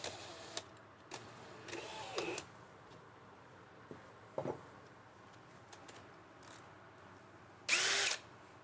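Several short bursts of a power drill spaced across the clip, drilling into a Ford Transit van for a window install, the last one loud and sustained for about a second, with quiet room noise between.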